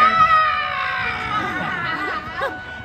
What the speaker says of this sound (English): Causing Mother Gothel to wither into a shrieking old hag!